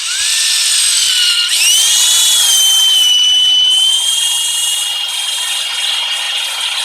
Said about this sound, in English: We're going to drill down right into the center of the stump,